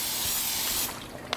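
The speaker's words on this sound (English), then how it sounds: "set your pan over medium-high heat and give it a good spray" Cooking spray hissing into a pan set over medium-high heat, one steady close spray lasting about a second before stopping with a small click.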